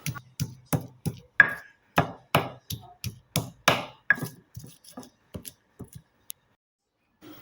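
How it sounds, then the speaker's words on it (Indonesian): Spices are pounded in a stone mortar and pestle (ulekan) with a steady run of about sixteen close, sharp strikes. The blows grow softer and sparser toward the end, then stop. "Nah, bumbunya kita ulek semua begini ya, kita halusin dan cara diulek"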